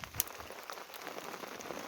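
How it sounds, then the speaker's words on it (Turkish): Heavy rain pattering on surfaces in a rural village, a dense continuous patter of close drops with scattered sharper hits, steady and moderately loud without talk. "yağmur hızlandı arkadaşlar"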